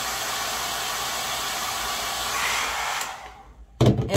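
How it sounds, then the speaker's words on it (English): Steady rushing whir of a blow dryer running close for about three seconds, then switching off, followed by a few clicks and handling noises. "Do it with a blow dryer for a little bit."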